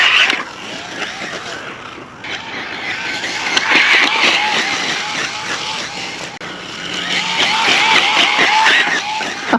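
A UDIRC 1203PRO RC truck races along at speed, its high motor whine rising and falling with the throttle over tyre and gravel noise, with a person talking over it.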